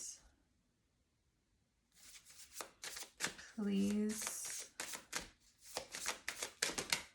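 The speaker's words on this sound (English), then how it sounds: "I'll keep shuffling." Tarot cards are riffled and shuffled in quick, crisp bursts close by, with a soft voice speaking briefly between the shuffles.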